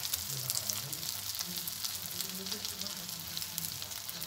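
Shami kebabs fry in a pan with a steady, crackly sizzle, faint and even throughout, with no talking over it.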